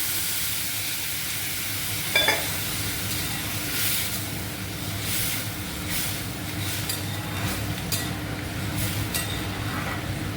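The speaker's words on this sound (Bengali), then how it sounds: "এর মধ্যে একটু আমি জল দিয়ে দিচ্ছি।" Pumpkin curry sizzling in a pan as water is added, with a hissing, steamy fry, a brief metallic clink near the start and scattered stirring scrapes, close and steady.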